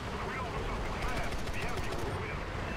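Rapid bursts of aircraft cannon fire from the Ho-229 jet in War Thunder, a quick regular pulse of shots lasting about a second amid engine roar and someone talking.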